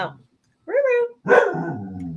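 A dog indoors barks on patrol, giving a couple of loud, close barks with a short pause between them in an otherwise quiet room.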